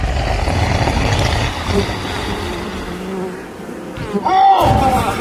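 Bees buzzing around a beehive, a dense close droning hum that wavers and swells, rising louder near the end, with no speech over it.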